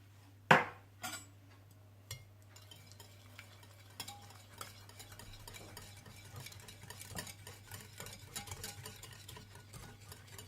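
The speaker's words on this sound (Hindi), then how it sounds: "चॉप किया हुआ बारीक लहसुन, व्हाइट पेपर पाउडर और नमक डालकर अच्छी तरह से मिला लें" A spoon stirs a shawarma garlic sauce of fresh lemon juice, finely chopped garlic, white pepper powder and salt in a bowl, with a few sharp clinks at first, then steady soft scraping and swishing close by.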